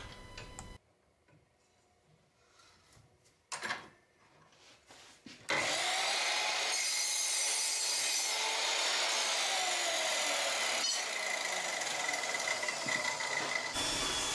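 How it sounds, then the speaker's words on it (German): A few sharp mechanical clicks and clanks, then a metal cutoff saw bites into T-slot rails with a sustained, bright grinding whine that runs steadily for several seconds. "Die beiden T-Nut-Schienen, die an jedes Fräslineal geschraubt werden, länge ich wieder rechtwinklig an meiner Metalltrennsäge ab"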